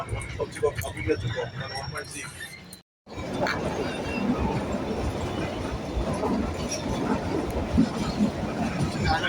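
A train rolls through Dharampur station in Himachal with a steady, dense rumble and rhythmic wheel clatter. The sound is close and continuous, briefly cut off once, and voices talk over it.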